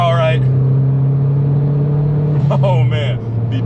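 Turbocharged Mazdaspeed3 engine droning steadily from inside the cabin, pitch rising slightly as it accelerates, with people talking over it.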